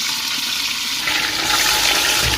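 Beef drops into hot mustard oil for biryani, and a loud, close hiss of frying swells up partway through and keeps rushing steadily to the end, with no speech.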